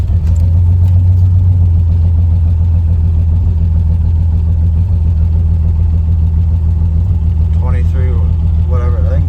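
A 1974 Pontiac Ventura engine rumbles loud and low, pulling steadily in first gear through a three-speed transmission, with voices talking faintly near the end.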